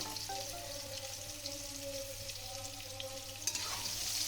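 Papaya kofta fries in hot oil in a pan, a steady close sizzle and crackle continuing throughout with no voices.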